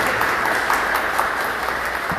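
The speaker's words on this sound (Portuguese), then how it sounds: "vamos saudar aqui com uma salva de palmas" A round of applause from a church family-week audience welcoming guest couple Nenê and Nenê, a sustained even clatter of many hands at moderate loudness with no speech.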